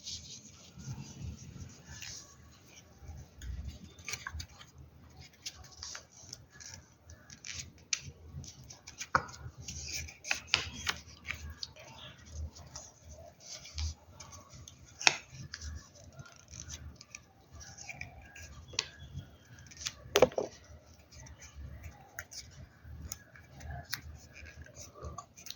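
Orange paper being folded into small pleats by hand gives soft, scattered crinkles and crisp creases at close range over a quiet background.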